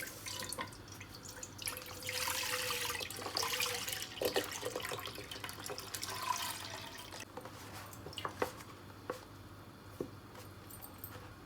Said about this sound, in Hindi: इसके अंदर मैं दूध डाल दूंगी।